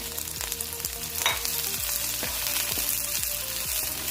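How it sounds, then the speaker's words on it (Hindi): Onions browning in three tablespoons of oil for chicken biryani, a steady close sizzle with rhythmic scraping stirs roughly every half second, no voices over it. "3 टेबलस्पून ऑयल लिया है और इसमें मैंने 3 अदद ये प्याज को ब्राउन करना है मैंने"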